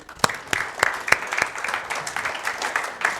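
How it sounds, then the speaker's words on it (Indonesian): A church congregation applauds during a sermon, starting with a few loud distinct claps near the front and building into a fuller, steady round of clapping over about three seconds. "Tepuk tangan dulu dong."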